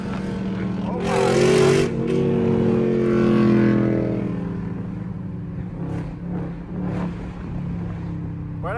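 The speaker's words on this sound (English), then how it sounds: "that car is so loud" Loud Lexus RC F sports car in traffic, engine roaring and revving up close before the noise eases off, with people talking over it.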